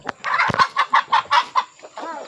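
Free-range kampung chickens clucking on a chicken farm, a close, loud run of about eight quick rhythmic clucks followed by a drawn-out squawk, heard alone with no talk.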